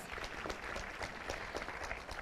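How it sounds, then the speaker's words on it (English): An audience at an education awards ceremony gives a faint, steady round of applause for a school employee of the year, with dense clapping and no voices. "Let's give her a round of applause."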